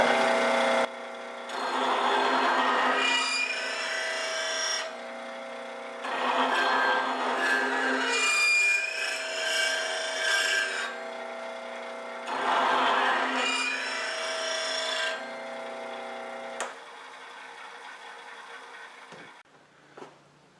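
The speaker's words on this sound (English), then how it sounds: "I'm going to go ahead and get my bowl gouges sharpened up. I'm using a 5/8" bowl gouge." A 5/8 inch bowl gouge ground sharp on a woodturning grinder. Three long, steady passes of loud, close, harsh grinding hiss are separated by brief pauses, and the motor hum fades out at the end.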